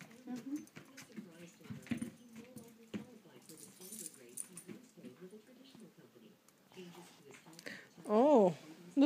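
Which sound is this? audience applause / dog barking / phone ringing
dog barking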